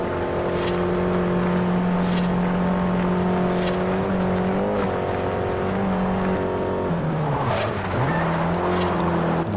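A race car in Forza Horizon roars steadily at high revs, its engine note holding strong and climbing with brief dips around a gear change or corner, loud and continuous throughout.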